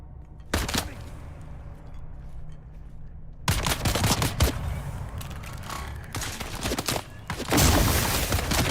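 Gunfire from a shooter game set on a desert world, bursts of rapid shots coming in loud broadband clusters after a quiet opening, with sharp cracks and dense volleys toward the end.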